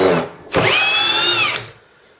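A cordless power drill drives a BeaverScrews screw into timber, a brief tap followed by about a second of steady high motor whine that cuts off cleanly, close and loud with no talk.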